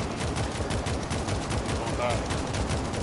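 An automatic turret in a zombie survival shooter fires without pause, a loud, dense rattle of rapid gunfire that runs through the whole stretch.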